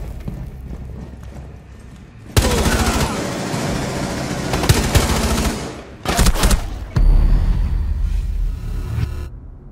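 Gunfire from the operator Kaveira in Rainbow Six Siege, loud bursts of shots starting partway in, breaking off briefly and then resuming, over a busy game background.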